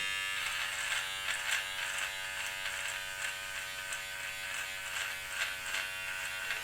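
An electric trimmer with its guard removed buzzes steadily while lining up a sideburn during a face cleanup shave, a close, continuous drone with small pulsing changes as it moves along the hair, with no talking.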